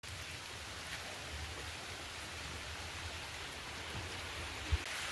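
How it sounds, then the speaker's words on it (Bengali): Steady rain falls outdoors, a soft even patter that stays fairly faint and unbroken for the whole stretch, with one small knock near the end and no voices. "আবার বৃষ্টি এলো"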